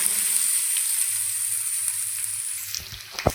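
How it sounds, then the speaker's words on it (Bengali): Ash gourd added to moong dal fried until red in a pan, a loud continuous sizzle with a few sharp clatters and spatters near the end. "এখন আমি চাল কুমড়া দিয়ে দেব। দিয়ে দিচ্ছি চাল কুমড়া।"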